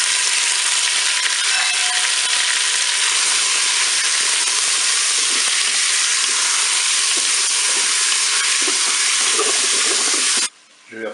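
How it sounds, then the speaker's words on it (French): Veal and onions brown in a Cookeo multicooker with a loud, dense, continuous sizzle that cuts off abruptly near the end. "je vais pouvoir faire revenir ma viande"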